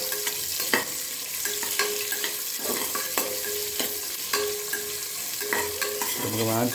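Onions sauté in a pan with spices for ghee rice, a constant sizzle punctuated by repeated clinks and scrapes of a stirring spoon.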